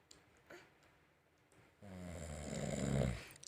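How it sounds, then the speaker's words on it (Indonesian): A man snores while asleep, the loud rasping snore swelling from about the midpoint and building to a peak before easing off, with faint noises before it. "papa ngorok"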